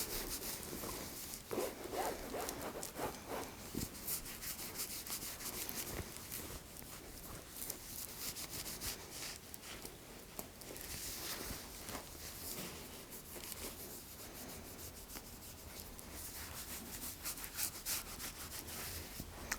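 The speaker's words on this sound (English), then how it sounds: "I'll rub you with the stone." A red jasper stone is rubbed steadily during an ASMR Reiki session, making a close, continuous dry scraping and brushing texture that lasts throughout with small irregular pulses.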